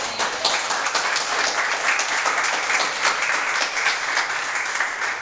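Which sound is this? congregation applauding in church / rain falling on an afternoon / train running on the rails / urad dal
congregation applauding in church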